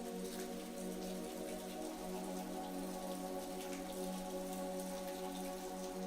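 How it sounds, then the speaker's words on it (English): Steady rain patters against house windows on an evening, a continuous soft drumming of drops with no pauses, moderately quiet and even throughout. "As the rain continued to drum against the windows"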